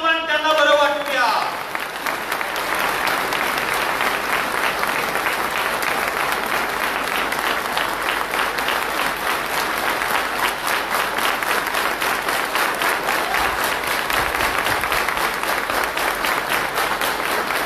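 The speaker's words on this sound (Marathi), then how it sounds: "प्रचंड मोठ्या टाळ्यांचा गजर होईल" A large audience at a public speech bursts into loud, sustained applause that keeps going steadily to the end, after a brief voice at the start.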